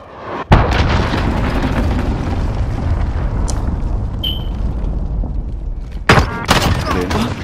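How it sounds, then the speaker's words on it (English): A cruise missile explosion in the Modern Warfare video game, during a Search and Destroy match: a sharp blast bursts in, then a loud, sustained rumble rolls on for several seconds, and a second burst of impacts arrives near the end. "Enemy cruise missile incoming"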